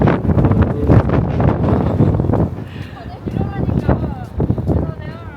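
Strong gusts buffet the microphone with loud low rumbling at Odaiba, Japan, then ease somewhat as a voice speaks and faint birdsong comes through.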